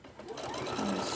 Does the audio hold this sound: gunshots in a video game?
no